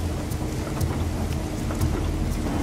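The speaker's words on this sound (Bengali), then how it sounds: "গ্রামের দিকে দেখছি এই ঝিমঝিমে বৃষ্টির ফলে গরমকালেও শীতের কবলে" Steady, dense rain pours in a cartoon rural scene, with low rumbling thunder underneath, loud and continuous with no talking.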